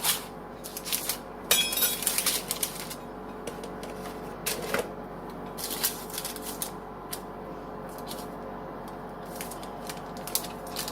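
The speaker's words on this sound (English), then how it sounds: "You're going to cut this using pizza cutter. Cut dough into 6 rows by 4 rows." A pizza cutter rolls through dough for spinach, artichoke and feta bites, cutting it into squares. Repeated close scraping strokes come in an irregular rhythm.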